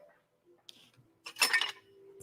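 A metal whisk is picked up with a brief clatter of cutlery and clinking metal against dishes, close and moderately loud, preceded by a few faint taps.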